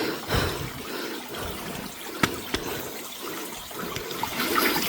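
Water flows and trickles continuously close by at the start of a forest waterfall, with a few sharper splashes breaking through the steady rush.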